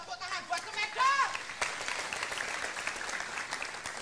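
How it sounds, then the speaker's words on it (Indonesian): An audience applauds at a ludruk theatre event in Surabaya after a new school ludruk arts club is announced; a voice speaks over the opening moments before steady, dense clapping takes over for the rest. "Tepuk tangan buat Smack Josh."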